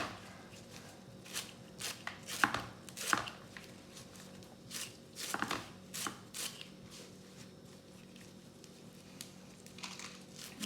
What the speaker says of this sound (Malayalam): നമുക്ക് ആ ചായാമൻസയുടെ ഇലയൊന്ന് അരിഞ്ഞെടുത്തുകൊണ്ട് വരും